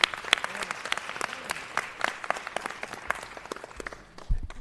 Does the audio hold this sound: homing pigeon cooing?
no